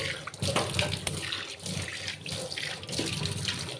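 Tap water gushes into a very dirty kitchen sink during a rinse, a continuous close rushing splash that swells and dips as the flow hits the basin.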